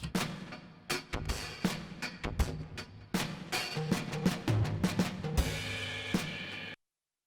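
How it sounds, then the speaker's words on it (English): A gritty, crackly vinyl loop with dense broadband noise and repeating percussive hits, fairly loud and steady, no voices. "I had a fairly dirty sounding vinyl loop"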